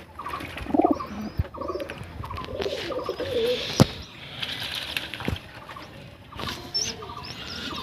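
Pigeons, including a Punjabi breed sitting on eggs, cooing in a home loft, with soft repeated coos up close, wing rustles and a few knocks in the background.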